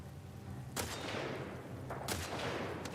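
Gunfire in The Last of Us Part II, heard as two sharp shot bursts with lingering rumble, set against a quiet, steady game ambience, fairly faint overall.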